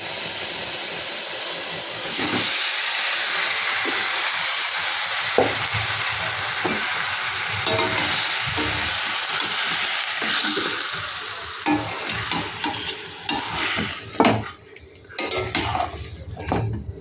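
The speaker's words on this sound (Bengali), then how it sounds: "আমি এবার ঢেলেই দিয়ে দিচ্ছি চিকেনটা।" Chicken poured into a hot pan for an oil-free chicken kosha, a sharp onset of loud steady sizzling and frying with stirring and clinks of utensils against the pan near the end.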